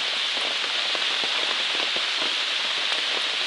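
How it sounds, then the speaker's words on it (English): Steady rain falls outdoors on the Appalachian Trail during an evening shower, a dense, continuous hiss with scattered drops pattering close by on leaves and gear. No voices are heard. "it's 5:45, so it shouldn't rain very long"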